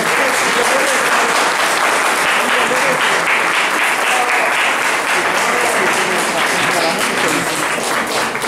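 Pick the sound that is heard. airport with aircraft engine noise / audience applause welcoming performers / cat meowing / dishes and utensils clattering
audience applause welcoming performers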